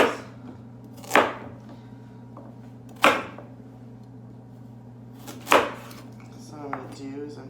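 A knife cuts carrot into thin sticks on a board, with three sharp, separate chops spaced about two seconds apart over a steady low hum, then a brief murmur of voice at the end.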